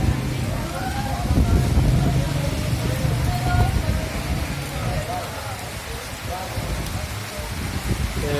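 Heavy rain pours steadily, a dense wash of patter close by with someone talking over it throughout.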